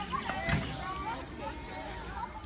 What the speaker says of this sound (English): You hear children screaming, playing.